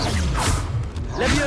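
A Stupefy spell whooshes and snaps in the Hogwarts Legacy video game during a troll battle: one swift swish with a whip-like crack and a low thud, loud and close over steady game background.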